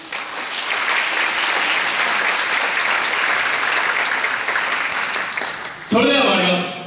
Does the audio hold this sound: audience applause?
yes